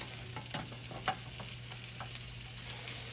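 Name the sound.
buttermilk blueberry pancake frying in pan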